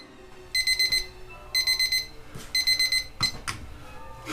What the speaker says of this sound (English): And now, set a timer for 15 minutes